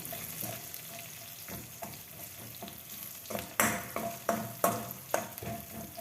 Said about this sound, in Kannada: ಮೆಣಸಿನ್ಕಾಯಿ ಹಾಕಿದ ತಕ್ಷಣ ಸಿಡಿಯುತ್ತೆ